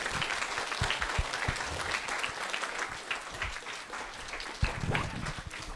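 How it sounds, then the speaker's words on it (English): An audience of schoolchildren and adults at a storytelling event applauds to welcome a speaker, giving dense, sustained clapping close by that runs the full length without a break. "can we give her a really welcome applause as she comes up?"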